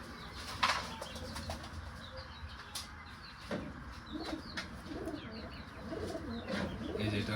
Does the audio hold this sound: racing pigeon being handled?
yes